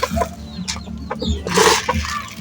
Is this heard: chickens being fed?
yes